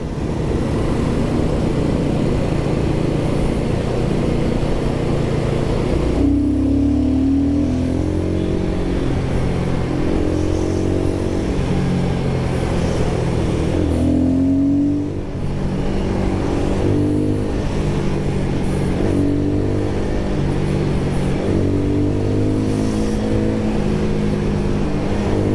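A Royal Enfield Guerrilla 450 motorcycle engine runs steadily and loudly while riding, a low droning hum with shifting pitch as the rider accelerates and eases off, continuous throughout without talk.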